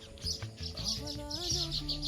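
Small bird chirping in quick repeated tweets close by outdoors, with faint low background sounds underneath.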